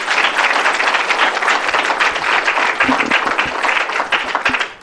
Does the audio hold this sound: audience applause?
yes